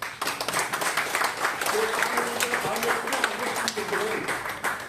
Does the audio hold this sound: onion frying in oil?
no